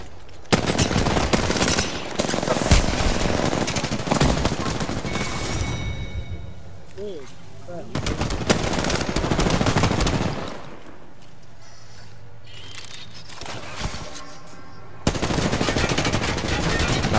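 Apex Legends gunfire rattles in loud automatic bursts separated by brief lulls, with game sounds and voices mixed in over the firefight.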